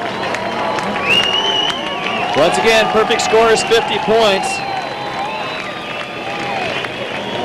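A stadium crowd at a 1992 world finals water competition cheers and applauds after a performer's routine, a loud, sustained roar with clapping and whistles, while an announcer talks over it.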